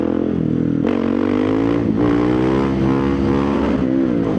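Husqvarna 701 Supermoto single-cylinder motorcycle engine running close by, a steady loud throb with a sharp blip of revs near the start and small rises and dips in pitch throughout, no voices.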